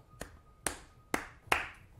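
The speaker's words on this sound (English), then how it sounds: "I don't want to clap too hard, but just a little." A person claps their hands lightly, four separate claps spaced evenly apart, each a crisp, close, dry smack with no one talking.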